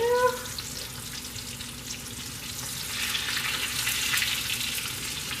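Leftover-filled empanadas fry in hot grease, a steady close sizzle and crackle that swells louder partway through, with a brief higher tone at the start.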